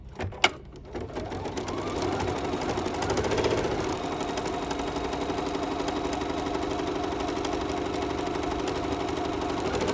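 A BERNINA 880 PLUS sewing machine double-stitches around taped-down gold cork for a bracelet, running in a close, continuous mechanical whir after a brief click at the start, with no talking.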